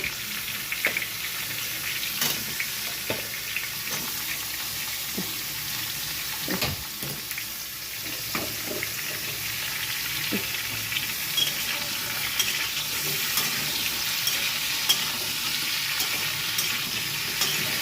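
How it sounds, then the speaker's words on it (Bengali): Pointed gourd (potol) frying in oil in a pan, a continuous hiss of sizzling with scattered stirring scrapes and clinks, moderately loud and with no voices. "এখন কী বলে পটলটা ভেজে দেবো"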